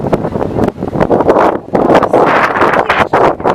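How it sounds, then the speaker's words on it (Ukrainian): Strong wind roars and buffets the microphone in heavy, uneven gusts, loud and rumbling throughout, outdoors at the Atlas statue in Dnipro. "дуже великий вітер сьогодні"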